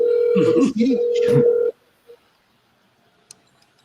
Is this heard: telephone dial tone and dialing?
yes